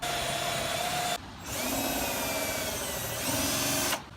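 A power drill bores a starter hole with a Forstner bit through a wooden guide, a loud steady whine running in two long bursts separated by a short pause, close by, with no talking.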